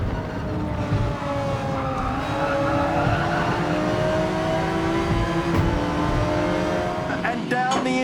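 Gran Turismo 7 race cars run side by side toward the finish of a Tokyo night drag race, a loud, close, continuous engine roar whose revving pitch climbs steadily for several seconds, with a brief sharp scrape near the end.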